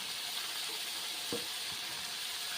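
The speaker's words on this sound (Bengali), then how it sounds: "ছেড়ে দিচ্ছি কষে নেওয়া মশলার ওপরে ছেড়ে দিচ্ছি পাঁচমিশালি সবজিগুলো" Mixed vegetables sizzle in a pan of fried spice paste as a constant, fairly quiet hiss, with a couple of soft stirring knocks partway through.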